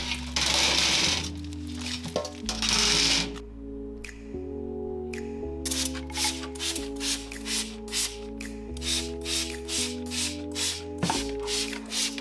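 Bursts of hissing spray from a bottle of alkaline electrolyzed water hit kitchen surfaces for cleaning grease, two long sprays then a run of short rhythmic pumps over steady background music.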